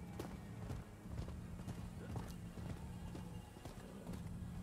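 A horse galloping in the video game Rise of the Ronin gives a steady rhythmic clip-clop of hooves over a continuous rumbling bed, with brief faint voice sounds mixed in.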